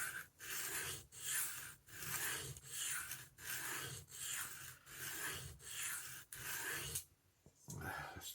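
An old knife that belonged to someone's grandfather is drawn across a sharpening stone in steady, evenly spaced rasping strokes, about ten in a row, close and clear, before a brief pause and one more stroke.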